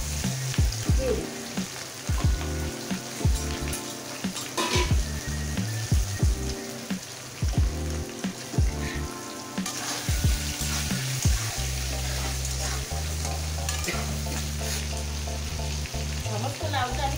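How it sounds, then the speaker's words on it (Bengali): Shol fish frying in hot oil for a bottle gourd bharta, a steady loud sizzle with repeated sharp crackles and pops, close up with no voices. "তেলটা গরম হয়ে গেছে, মাছগুলো দিয়ে দিচ্ছি।"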